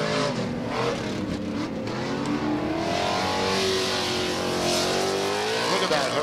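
A Pro 2 short course race truck accelerates hard at a restart on a fairgrounds track, its engine roaring loud and continuous with rising revs, mixed with other race trucks nearby.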